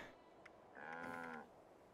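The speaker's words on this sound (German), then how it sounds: "Und die Kuh macht mich nach" A cow moos once in the Fallout 76 video game, a drawn-out mid-pitched low rising and falling over about a second, clear and close, preceded by a faint click.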